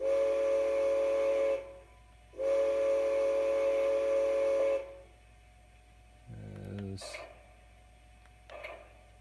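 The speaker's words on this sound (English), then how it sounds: "if I push this, I should hear his whistle" Two long, steady whistle blasts from a model Climax steam locomotive on a Bachmann E-Z Command DCC layout, with a brief gap between, followed by quieter mechanical clicks and a short rising squeal.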